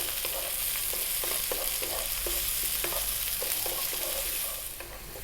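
Green beans, onion, garlic and ginger sizzle in a hot pan while a utensil keeps them moving in a regular scraping rhythm, close and continuous, with the noise easing slightly at the very end and no voices.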